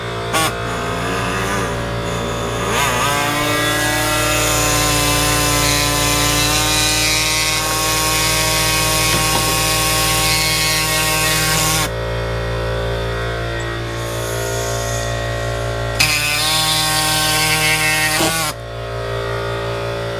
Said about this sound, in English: we're going to cut the bumper now for the larger intercooler for front